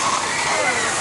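Heavy water splashes and pours over a theme park ride at Universal Studios, a loud continuous rushing wash filling the whole moment.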